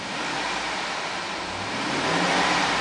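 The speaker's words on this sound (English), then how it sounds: "I'm going to rev it." A 2007 Chevy Suburban LT SUV with about 88,000 miles sits running as its engine is revved, a steady mid-pitched roar that swells slightly toward the end, close up and without speech.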